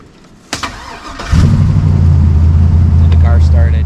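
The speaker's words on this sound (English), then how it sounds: "The car started." Truck engine starting after a battery boost on a long-idle vehicle: a click and brief crank, then the engine catches and settles into a loud, steady low idle, with people talking briefly.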